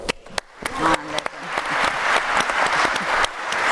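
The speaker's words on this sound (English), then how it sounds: "I think you both, the speakers, deserve applause." Audience applause for two speakers at a conference session in a church hall, a dense, steady wash of many hands clapping that builds quickly after a few opening claps, with some faint voices under it.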